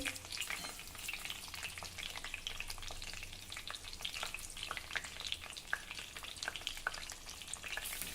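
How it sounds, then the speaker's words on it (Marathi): Fresh eggplants roasting in a pan and being turned over, giving a quiet continuous sizzle with faint scraping and tapping as they are moved around. "साईड टर्न करून घ्या म्हणजे सर्व बाजूनी वांगी व्यवस्थित भाजल्या जातील"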